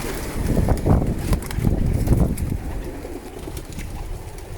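Homing pigeons coo nearby in soft, repeated low throaty calls, several birds overlapping, with a faint breezy background.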